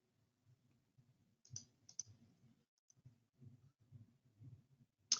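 Sharp computer mouse clicks sound at three separate moments, near and crisp, while someone clicks the add button in a Medicare client and provider management program. Soft low-level talk runs quietly beneath the clicks.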